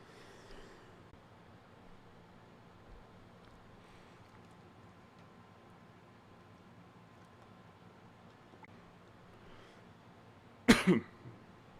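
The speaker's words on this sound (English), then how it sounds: "Let me know if I'm coughing too close to the mic." After a long stretch of near silence with faint room noise, one loud, close cough bursts out near the end, followed by a smaller second hack.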